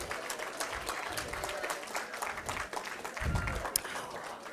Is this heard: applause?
yes